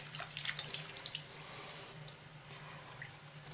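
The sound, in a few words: water running from tap while rinsing at tattoo session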